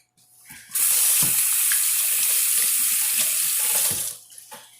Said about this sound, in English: I'm always washing my hands